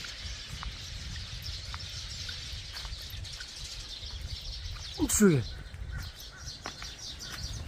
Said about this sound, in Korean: 조용와 참새가 빠글빠글해 빠글빠글